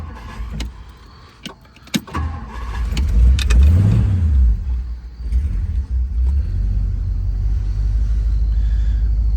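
A 1959 Ford Galaxie Sunliner with a 352 V8 idles steadily, a deep continuous rumble that swells briefly as if revved, preceded by a few sharp clicks and clunks.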